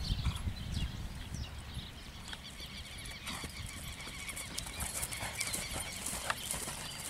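A chestnut horse worked in a round pen, hooves clip-clopping steadily with occasional squeals and faint whinny-like sounds, close and continuous without speech.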